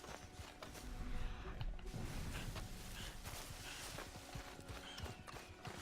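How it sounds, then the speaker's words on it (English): A horse in the Red Dead Redemption 2 video game clip-clops along a trail in a steady walking rhythm, hooves fairly close over a rumbling outdoor background, with a possible faint whinny. "There's a horse."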